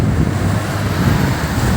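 Strong wind blowing along a city street past a pharmacy sign, a steady loud roar and rumble close to the microphone with gusting buffeting and no voices.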